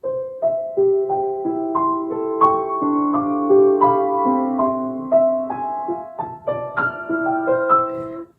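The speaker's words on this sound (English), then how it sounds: "Which sounds very much like a toy piano." A bright, plinky piano passage of quick overlapping notes in a high register, thin and toy-like, playing alone and clearly.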